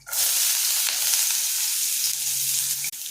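Steady, loud sizzling of dried red chillies, onions and spices frying in hot oil, a continuous crackle that dips briefly near the end.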